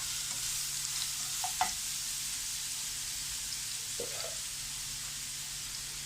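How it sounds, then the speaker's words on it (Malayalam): Crushed ginger and garlic frying in coconut oil in a pan on a gas stove, a soft continuous sizzle with a couple of brief clinks or scrapes early on and again later. "ഗ്യാസിൽ ഒരു പാൻ വെച്ച് കൊടുത്തിട്ടുണ്ട്. അതിലേക്ക് ആദ്യം ഇഞ്ചി വെളുത്തുള്ളി ചതച്ചതാണിത്."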